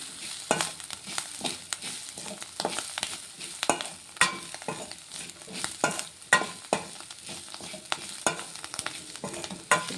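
Bitter gourd fry being stirred in a pan, repeated scraping strokes of a spatula in an irregular rhythm over a soft sizzle, nearby and without speech.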